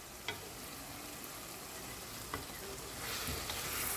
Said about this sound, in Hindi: और इसको हम भून लेंगे तेज़ आंच करके।